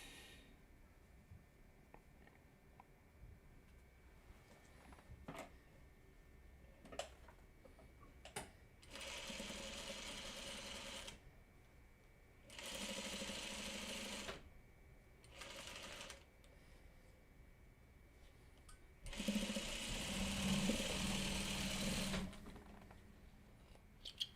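A sewing machine stitches squares for a Farmer's Wife quilt block, running in several separate bursts of steady close whirring, each a few seconds long, with quiet handling and fabric sounds between them.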